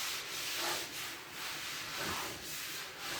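A half-speed sander smooths putty on a Volkswagen Beetle trailer fender. It gives off a steady close rasping rub that swells and fades in a slow rhythm with each stroke, and no one speaks.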